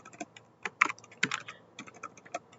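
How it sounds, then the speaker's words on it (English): Keys on a computer keyboard clack in quick, irregular bursts of taps with short pauses between, close and moderately quiet, no voices. "type username user1, password is also user1, type password"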